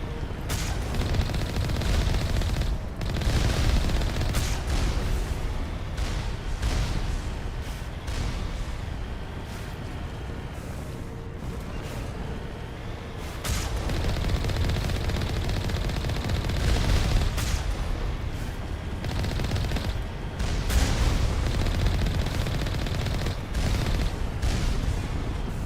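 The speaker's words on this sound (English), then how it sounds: "There's a lot of turrets." Turrets fire in Mass Effect in loud rapid bursts and sustained volleys, heavy booming shots recurring across a long stretch of combat with no speech.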